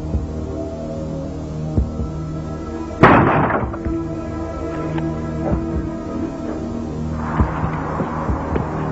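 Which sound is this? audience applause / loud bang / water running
loud bang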